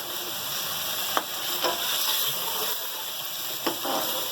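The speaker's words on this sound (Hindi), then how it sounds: "मैं आलू भूनूंगी" Potato slices frying in a pan for kofta curry, a loud dense continuous sizzle close up, with a few sharp spatula knocks.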